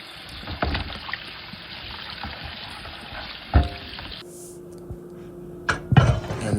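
Raw chicken being washed by hand in a bowl of vinegar and water, with steady splashing and sloshing close up, a few sharp clinks, and water stirring before a pause and more splashing at the end.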